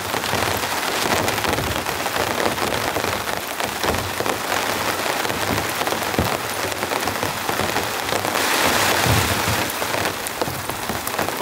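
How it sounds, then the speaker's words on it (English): Heavy winter storm rain pours steadily and loudly on a campsite, a dense continuous hiss of drops pelting surfaces throughout. "Way too much rain."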